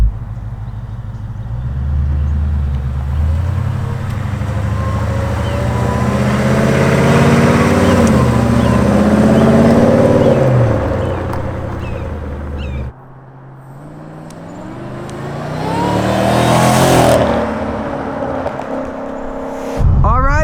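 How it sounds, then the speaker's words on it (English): An 825 hp Shelby Mustang Super Snake pulls hard through the gears with a manual gearbox, its loud engine note climbing in pitch, dropping sharply at a mid-way shift, then surging again. "here we go, first drive in the Mustang Super Snake already"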